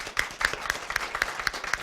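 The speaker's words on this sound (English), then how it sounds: "Give a round of applause." Scattered handclaps from a small audience at a school district spelling bee, about eight distinct claps in a steady, sparse rhythm, fairly quiet and somewhat distant.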